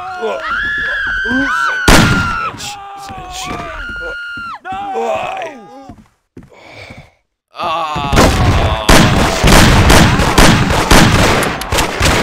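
Gunfire in a 1930s-style mafia shooter game set in a hotel, with loud sharp shots and bursts breaking out over shouting, groans and screams, heaviest and most continuous near the end.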